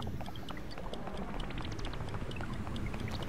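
Water sloshes and splashes continuously around a raft floating toward a waterfall in Zelda: Tears of the Kingdom, with a dense, even wash of water noise and small scattered drips.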